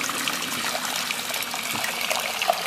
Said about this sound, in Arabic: ناخذ كسرونة نحط فيها ماء يغلي